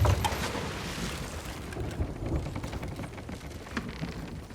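Rain falls steadily in the pirate sailing game Sea of Thieves, a soft continuous patter with scattered drops and a low watery wash, fairly quiet and with no talk.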